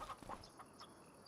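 Chickens on a farm in the video game Farming Simulator 25 give a few soft, scattered clucks, faint and distant against quiet background ambience.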